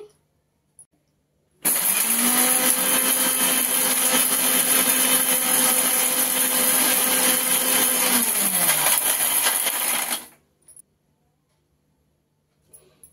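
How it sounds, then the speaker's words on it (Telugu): A mixer grinder blending coconut roars to life and runs with a steady high whine for several seconds, then spins down and stops, leaving quiet. "ఇప్పుడు మిక్సీ పట్టుకుందామండి"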